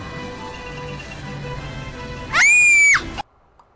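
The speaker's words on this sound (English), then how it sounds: "Yeah, she just screams at you." A Party City Terrifier 2 Halloween animatronic lets out a loud, piercing scream that lasts under a second, then cuts off sharply and leaves near silence.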